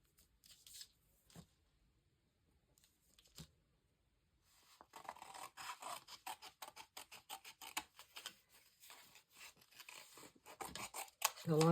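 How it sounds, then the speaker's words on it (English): Quiet rhythmic snipping and rustling of paper, sparse at first, then a steady run of rapid cuts near the end. "The longer scissors would work better."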